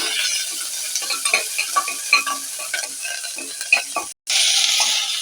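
Hot oil sizzles and crackles continuously with small pops as green chili, shallot and curry leaves are tempered, broken by a brief silence before the frying resumes strongly.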